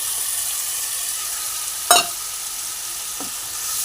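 Spice paste sizzling in hot oil while being stirred for Bengali aloo fulkopi, a steady close frying hiss with a brief scrape of the spoon midway and a softer knock later, no talk.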